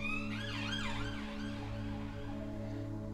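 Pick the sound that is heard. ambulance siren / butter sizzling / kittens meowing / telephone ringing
ambulance siren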